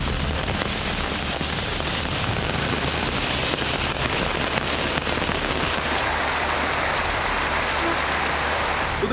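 Heavy, steady rain falls as a dense, constant hiss and patter that stays close and loud, with no distinct thunderclap standing out.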